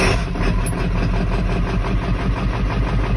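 A 1997 Ford F550 with a 7.3 Power Stroke diesel engine, started cold, runs with a steady, loud, close rumble and clatter, continuous with no talk.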